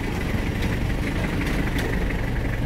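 A 1999 Toyota Hiace van idles just after starting, its engine giving a steady low rumble with a faint regular ticking, close by and unbroken.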